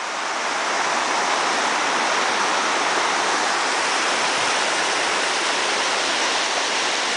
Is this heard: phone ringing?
no